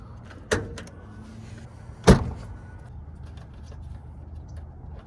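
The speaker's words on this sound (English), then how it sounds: "So let me go ahead and pop the hood," The hood of a 1993 Toyota 4Runner with a factory 3-liter V6 is popped, giving two sharp, close clunks of the latch a second and a half apart against quiet surroundings.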